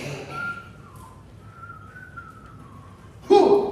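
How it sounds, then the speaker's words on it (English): A man whistles a long, steady, wavering call in a single sustained tone, loud and close, and a voice cuts in right as the whistling ends. "above the sound of labor you could hear his whistle call"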